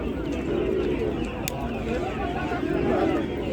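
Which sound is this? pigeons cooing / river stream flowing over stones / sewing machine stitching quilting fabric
pigeons cooing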